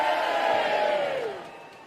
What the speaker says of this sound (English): would you give Martin a nice big cheer?